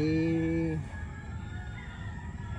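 A two-time champion broodcock rooster crows once loudly and close, a long drawn-out call, then soft clucking follows amid faint background noise.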